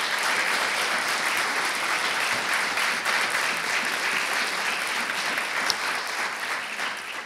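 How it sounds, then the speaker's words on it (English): An audience at an African American Read-In event applauds the performers with a sustained, even wash of many clapping hands that holds at full strength throughout. "Let's give another round of applause for all the performers."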